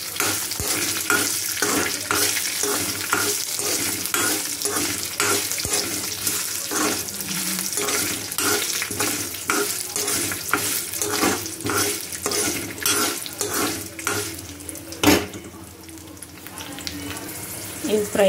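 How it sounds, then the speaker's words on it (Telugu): Dried red chillies, garlic and cumin fry in a kitchen pan, giving a steady close sizzle with light stirring scrapes throughout and a sharper knock near the end; no talk. "ఇప్పుడు దీంట్లో ఎండుమిరపకాయలు, ఎల్లుల్లిపాయలు, జీలకర్ర వేసుకుందాం."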